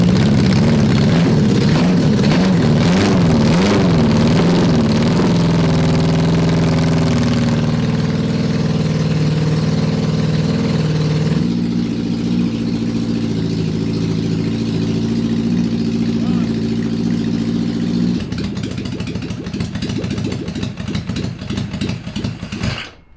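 Four-wheeler with a swapped 750cc Suzuki engine running after a jump start, a loud, steady idle with wavering revs and shifting engine tone, held close for over twenty seconds before cutting off at the end.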